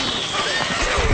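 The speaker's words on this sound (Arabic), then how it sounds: "الفرس تعدو." Horse galloping and neighing in the strategy game Stronghold Crusader, a short burst of hoofbeats and a whinny over busy game sounds and music, with game voices talking alongside.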